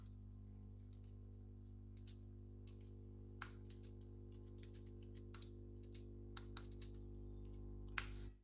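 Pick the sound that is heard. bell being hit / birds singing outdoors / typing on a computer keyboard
typing on a computer keyboard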